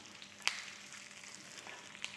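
Faint sizzling crackle from curry leaves dropped into hot A2 cow ghee for a tempering for ven pongal, soft frying hiss with a couple of sharp pops, heard alone at low volume.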